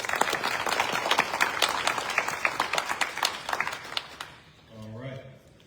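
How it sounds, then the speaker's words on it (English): Audience applause for school board candidates at a candidates forum, dense clapping for about four seconds that fades, followed by a voice speaking. "Will you please give all of these candidates a round of applause?"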